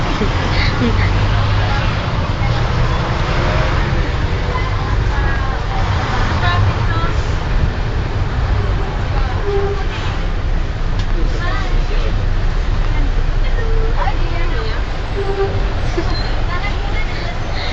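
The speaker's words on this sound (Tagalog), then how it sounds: "Sobrang traffic." Heavy road traffic rolls past in a dense, constant roar of engines and tyres, loud and close, with a bus-like rumble and a murmur of voices mixed in throughout.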